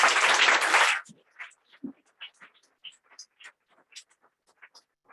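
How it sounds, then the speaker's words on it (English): An audience at an author event at Green Apple Books on the Park, San Francisco, gives a second of loud applause, which thins quickly into scattered, fading individual claps. "Give them a round of applause, please."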